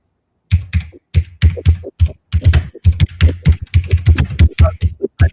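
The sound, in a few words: typing on a mechanical computer keyboard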